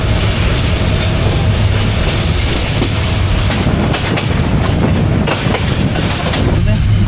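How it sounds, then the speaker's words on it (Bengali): Tista Express train running on a rail line beside a narrow road, a steady loud rumble of wheels and carriages with clickety-clack rhythm continuing throughout, close and unbroken. "এই হচ্ছে আমাদের ট্রেনের গতি।"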